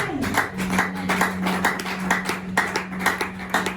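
A church congregation claps rhythmically and steadily with voices acclaiming underneath, a lively, close burst of hands beating in time with a sustained tone running beneath.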